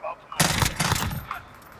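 Bursts of FAMAS rifle fire in the video game Modern Warfare 2, a dense rapid volley lasting about a second and a half, loud and close, following a short lead-in sound.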